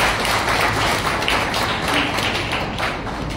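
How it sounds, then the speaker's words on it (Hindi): A church congregation at a Sunday service claps together in loud, dense applause, a steady wash of many hands close by with no talk over it. "जोरदार तालियां एक बार परमेश्वर के लिए"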